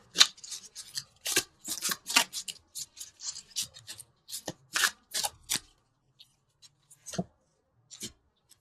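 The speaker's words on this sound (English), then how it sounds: "let's pull a couple universal love cards" Tarot cards being shuffled and pulled from a deck, a series of crisp close rustling and flicking bursts in an irregular rhythm that thin out into a few sparse light snaps.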